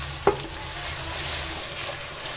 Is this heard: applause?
no